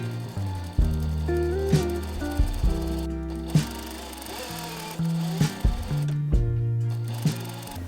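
A sewing machine stitches down the twice-rolled edges of a cotton bandana headband, running in short whirring bursts with brief pauses and small clicks between, loud and close.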